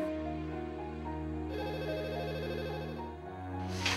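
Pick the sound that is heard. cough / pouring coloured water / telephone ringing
telephone ringing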